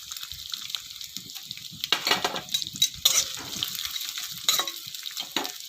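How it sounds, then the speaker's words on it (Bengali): Cashews and shredded coconut fry in hot ghee in a wok: a steady, bright sizzle with louder scraping stirs and spitting bursts near the end, close up and without voices. "আমার কাজু বাদাম আর নারকেলের কুচি লালচে হয়ে ভাজা হয়ে গেছে।"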